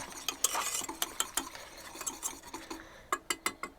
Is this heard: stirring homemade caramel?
yes